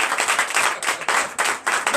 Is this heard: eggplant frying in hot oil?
no